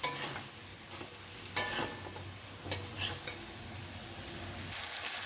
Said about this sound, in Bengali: আদা, কাঁচা লঙ্কাটাকে একটু কষিয়ে নিতে হবে।